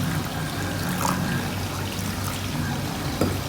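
Water trickles and pours gently from a quarter glass into a qeema mixture of meat, tomato and spices, a soft, low, continuous splashing heard close.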